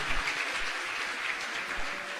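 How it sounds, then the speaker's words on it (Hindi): Audience clapping at a Jain religious ceremony, a steady, fairly distant wash of many hands lasting throughout, with no voices over it. "यहाँ की ट्रस्ट कमेटी बहुत अच्छी है, ताली बजा लो फिर पहले तारीफ में"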